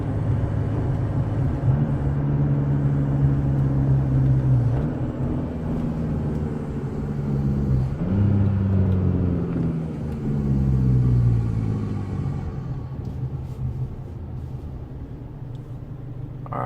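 A 2016 Chevrolet Colorado Duramax diesel pickup with an S&B cold air intake idles at a red light, heard from inside the cab: a steady low engine drone with faint shifting tones, loud and continuous, no talking.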